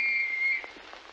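A single clear whistle, held steady for about half a second and then breaking off into quiet background hiss, from a character whistling in an Italian-dubbed film.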